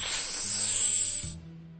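A snake hisses behind a door in a cartoon: a sustained breathy hiss for about a second and a half, then it cuts off, leaving a soft low tonal hum underneath.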